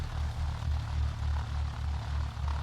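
Airplane engine in X-Plane 10 throttled back for a descent, a loud, steady droning rumble with a slow pulsing wobble and no voices.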